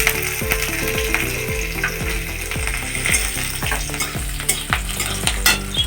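Chopped green chillies and ginger frying in a pan, a steady close sizzle with repeated rhythmic scraping strokes of a spatula against the pan, no talking.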